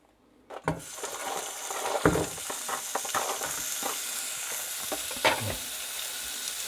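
Beef frying in sesame oil in a pan, a loud close sizzle starting suddenly, with stirring scrapes and clacks cutting through a continuous crackle.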